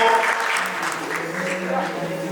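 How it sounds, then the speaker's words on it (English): An audience at a school award ceremony gives students a round of applause, steady clapping mixed with a murmur of voices. "So they need a great round of applause. Please applaud them."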